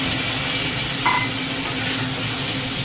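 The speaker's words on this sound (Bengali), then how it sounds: "পাঁচফোড়ন সম্বাদ দিয়ে দিয়েছে গরম তেলের মধ্যে, ওইদিকে সরাটা দিয়ে দিচ্ছে" Fish and five-spice seeds (panch phoron) sizzle in hot oil in a home kitchen, a steady close crackling hiss with a brief sharper spatter near the middle and no talking.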